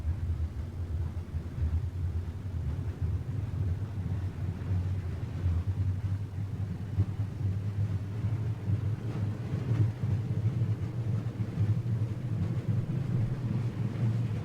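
A Boeing 747-400 in X-Plane 11 on its takeoff roll, engines producing a steady, low, rumbling drone that holds loud and continuous with a slight build as the airliner accelerates down the runway.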